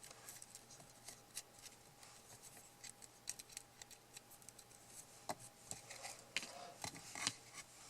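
Scissors make quick, dry snips through scraps of pink paper while cutting a small basket shape for a handmade card. The cuts come in irregular bursts at close range, with no talking.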